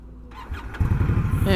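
An Indian Scout Rogue motorcycle, a 2022 model, starts up: a brief cranking whir catches into a loud, throbbing idle close by, with a person talking over it.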